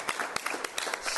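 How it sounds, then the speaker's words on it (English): Applause from a board meeting audience, a short stretch of quiet, distant clapping with scattered sharper hand claps. "Thank you for the applause"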